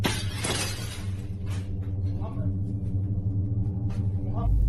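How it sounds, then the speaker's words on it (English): A stone smashes a glass window in a played-back horror clip, with a sharp broadband crash near the start and further clattering impacts later over a constant low rumble and faint background voices. "han krossar glaset med en sten"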